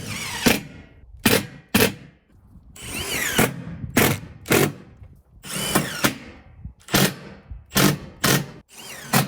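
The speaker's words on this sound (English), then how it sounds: "I might go ahead and pre-drill these really to establish a straight line for my screws" A drill driving self-tapping screws into steel siding on a cabin build, with a string of short, sharp, close bursts of whirring and clicking separated by brief gaps, loud and with no voices.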